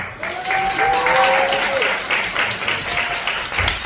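Audience applause for a band member being introduced at a student band showcase, a sustained wash of clapping with a brief tonal squeal partway through and chatter underneath.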